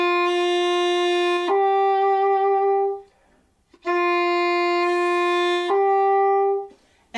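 English horn played solo, sustaining a C, passing through a breathy half-hole, then settling on D; the phrase is played twice with a short silence between, close and clear with no talking.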